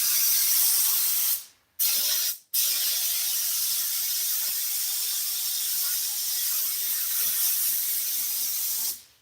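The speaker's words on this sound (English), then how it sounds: "That's why I spray it good." A steady hissing spray from an aerosol can onto a Studebaker truck seat being restored runs for several seconds, broken by two brief pauses near the start, fairly close and loud.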